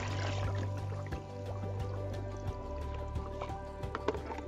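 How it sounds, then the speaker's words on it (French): Cold tap water runs and splashes into a bucket, a continuous gurgling pour with low hum and occasional knocks in the background. "Je prends de l'eau du robinet, froide"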